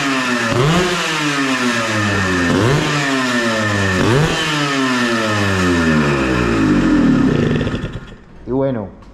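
A motorcycle engine repeatedly revs up and drops back in loud, rising surges, then cuts off briefly before one last short rev.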